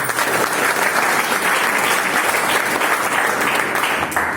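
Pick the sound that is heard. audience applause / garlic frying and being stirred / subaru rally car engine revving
audience applause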